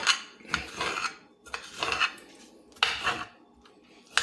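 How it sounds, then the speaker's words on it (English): A dull knife chops vegetables for a taco salad on a board, giving bursts of scraping, rasping cuts in uneven clusters with short pauses between, fairly close and moderately quiet. "Knife is not sharp enough. We're going to choppy chop."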